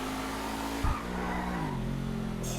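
A Dewbauchee Seven-70 sports car in GTA Online runs on engine overrun, its steady engine drone broken by a single sharp pop before settling into a lower, shifting tone.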